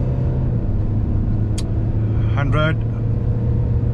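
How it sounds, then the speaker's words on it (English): A Tata Safari diesel automatic accelerating hard in sport mode, its engine a steady, close cabin drone with a deep rumble, while a person talks briefly over it. "Gear changes are happening at a higher RPM as well."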